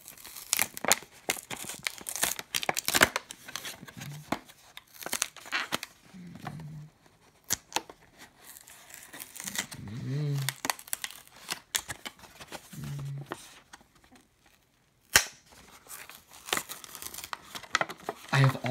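Plastic packaging crinkles and tears while a toy demolition derby car is unboxed, loud close rustling bursts throughout with a person speaking at intervals.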